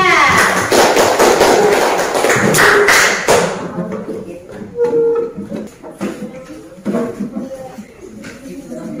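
A classroom group applauds a student team, a loud burst of clapping for a few seconds that stops abruptly, followed by quieter taps, shuffling and murmured voices.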